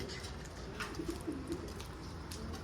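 Soft, low cooing of turtle doves, a few repeated rounded calls at moderate distance over faint outdoor background noise, no talking.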